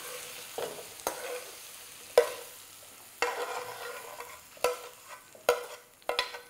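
Butterfly prawns fry in a pan with a soft, low sizzle broken by repeated sharp clacks and scrapes of stirring, each knock standing out loudly above the quiet hiss.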